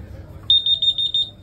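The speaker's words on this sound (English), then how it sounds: "we've got a high level alarm" The high level alarm on a 10,000 litre steel bunded diesel tank sounds a quick run of about eight shrill, evenly spaced electronic beeps over a quiet background hum.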